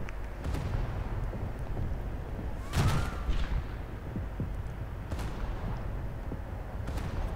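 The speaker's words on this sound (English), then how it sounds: "There's a Cleveland broadside to you." Naval guns fire broadsides in War Thunder: heavy booming blasts, one large salvo near the middle and further reports spread through the clip, over a steady rumbling battle background, with no voices.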